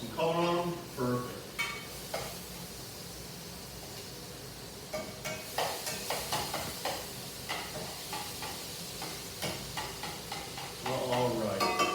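Shrimp sizzle in a pan at a live chef's cooking demonstration, with a soft steady hiss broken by clinks and scrapes as they are flipped.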